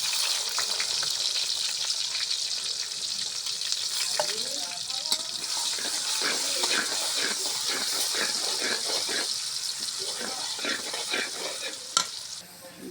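Bay leaf, cinnamon and chopped onion fry in a pan with a steady close sizzle, while scraping stir strokes sound repeatedly through the middle and a brief clank comes near the end.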